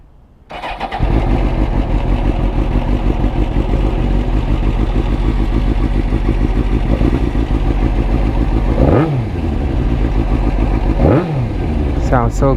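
A Suzuki GSX-R750 sport motorcycle with a short exhaust cranks and fires up, settling into a loud, steady rumble with a couple of sharp throttle blips near the end.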